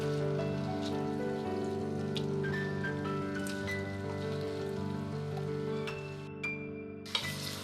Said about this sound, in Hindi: गोश्त को बहुत अच्छा सा फ्राई हम करेंगे